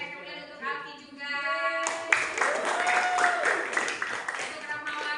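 A classroom gives a round of clapping for a student named Alki, a dense patter of hands that starts abruptly and holds steady, with voices talking over it throughout.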